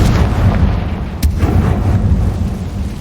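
A Confringo fire spell in Hogwarts Legacy bursts as one loud, close explosive boom midway through, over a steady rumbling game background.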